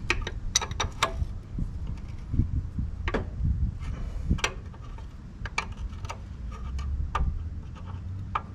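Metallic ratcheting clicks and clanks from tightening a fastener on heavy equipment undercarriage during cutting edge repairs, sharp intermittent bursts over a low rumbling background, close by.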